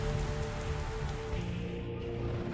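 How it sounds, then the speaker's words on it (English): Rain falling onto water in the Digital Combat Simulator flight sim, a steady, dense patter and hiss of droplets with no break and no voices. "Even the rain droplets are visible hitting the water."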